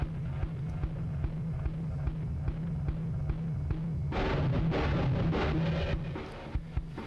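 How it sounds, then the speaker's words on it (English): A steady, thumping kick drum pattern plays with a gritty, distorted edge, then a harsh noisy burst swells in for a couple of seconds before the kicks continue. "It's this drum distortion."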